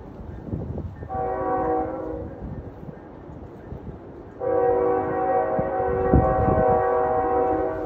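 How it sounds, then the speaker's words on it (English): A passing train blows its horn in two long, loud chords, a shorter blast and then a longer one, over the steady rumble and clatter of rail cars rolling by. "There's another train coming here."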